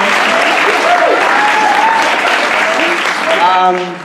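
Loud, sustained audience applause at a live comedy convention panel, dense clapping filling the room, with some voices and laughter mixed in and fading toward the end.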